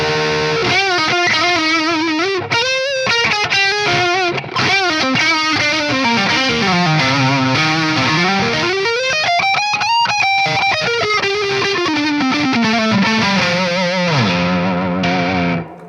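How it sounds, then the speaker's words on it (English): Electric guitar on the neck pickup through an EVH 5150III 6L6 amplifier, a loud, continuous saturated lead line with bending, sliding notes and effects-laden sustain, played alone for the whole stretch. "There we go, neck pickup tones with the 5150III."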